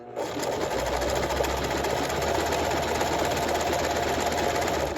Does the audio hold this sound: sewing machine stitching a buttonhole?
yes